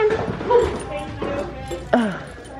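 A puppy gives short yips and whimpering cries in a few brief bursts, heard up close in an indoor setting with background noise throughout.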